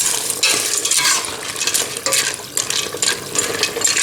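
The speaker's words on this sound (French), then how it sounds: "Et je les laisse cuire en les remuant de temps en temps pendant une dizaine de minutes." Macaroni simmering in a Tunisian-style tomato sauce is stirred in a pot, giving a steady wet bubbling and scraping with spoon clatter throughout, close and fairly loud, with no voices.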